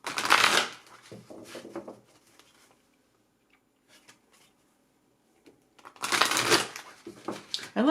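A deck of cards is shuffled and riffled in two quick bursts of crisp flutter, close and distinct, separated by a few seconds of light handling and near silence.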